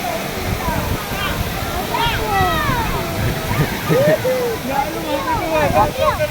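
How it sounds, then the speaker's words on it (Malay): A waterfall at a tourist spot in Aceh, Indonesia, heard as a steady rushing roar of falling water beneath excited talk from several people nearby. "Air terjun guys. Keren kali."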